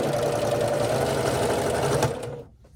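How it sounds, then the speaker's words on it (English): A sewing machine runs steadily for about two seconds, stitching quilt pieces for a herringbone quilt, with its even motor hum and rapid needle clatter up close, then stops and the room falls quiet. "And sew that on, making sure that the seams underneath are going in the correct direction."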